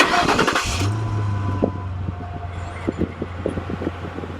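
A 2006 Ford Crown Victoria LX cranks briefly and catches, then settles into a steady low idle rumble up close, with a few light clicks and taps over it and no talk.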